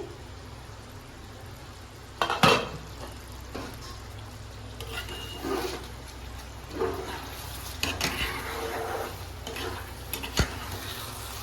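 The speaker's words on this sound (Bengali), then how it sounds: "তাহলে চিকেনটা হয়ে গেছে, এবার আমি ঢাকাটা খুলছি" A lid is lifted off a pot of home-made butter chicken with a sharp clink, followed by soft bubbling and intermittent scraping and clatter nearby.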